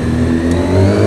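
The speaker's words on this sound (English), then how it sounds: "I just did a burnout." A motorcycle engine revs hard and steady during a burnout on slick, shiny cement, a loud, close, continuous roar with no pauses or talk.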